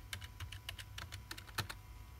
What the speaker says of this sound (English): So in the terminal, all you type is neofetch.